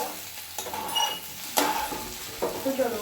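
Potatoes fry in a pan with a soft, continuous sizzle, punctuated by several clinks and scrapes of a spatula stirring against the metal, close by.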